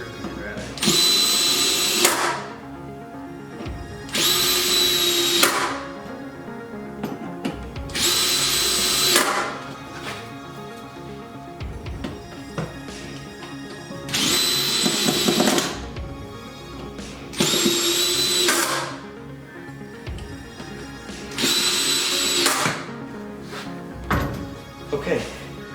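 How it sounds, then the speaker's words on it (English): A power drill drives screws into lumber for a storage rack, sounding in six loud, roughly two-second bursts spaced a few seconds apart, with quieter handling and background noise between them. "So drill those in, screw them in rather."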